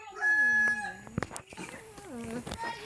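A rooster crows once, a long wavering call up close, followed by clucking and other bird sounds with some voices in the background.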